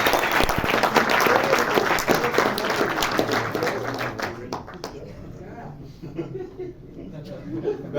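An audience at a cinema club screening claps warmly for several seconds, the applause thinning and tapering off, with some chuckling and murmured voices mixed in.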